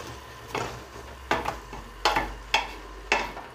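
Rice and broccoli frying in a pan for broccoli soup give a soft, steady sizzle, broken by several sharp scraping stirs of a utensil against the pan at irregular intervals, with no talking.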